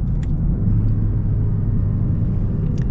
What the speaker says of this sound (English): I could just listen to this car all day with that turbo noise